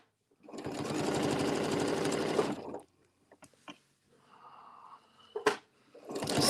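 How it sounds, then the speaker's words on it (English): A sewing machine runs a short burst of stitching along a seam, a dense rapid whir for about two seconds, followed by scattered clicks and fabric handling, then starts stitching again at the end. "Stitch till the needle is in the line or the seam in your case."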